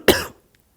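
A single short, sharp cough sounds close by and fades fast into silence.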